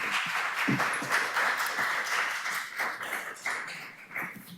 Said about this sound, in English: Don't clap, we haven't passed it yet.